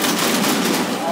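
Naval guns fire in the Modern Warships online game, a dense loud continuous roar of gunfire and blasts with no gaps.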